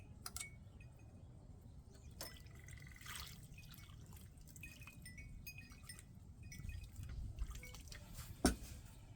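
Water drips and trickles from freshly transplanted basil pots left draining in muddy water, a scatter of soft irregular drops with an occasional sharper splash near the end, close and quiet with no talk.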